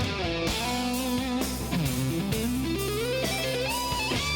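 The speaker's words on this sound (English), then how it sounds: "this next lick is one of the smoothest guitar riffs I've ever heard" A smooth, legato electric guitar lick from Steve Vai's "Tender Surrender" plays up close and loud over a sustained backing. Sliding, bending notes glide up and down in one fluid phrase.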